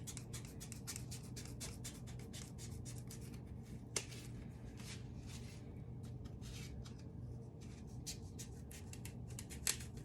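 Scissors snip repeatedly at the excess material on the back of a lollipop wreath, a rapid series of close, quiet crisp cuts and rustles with a couple of sharper clicks.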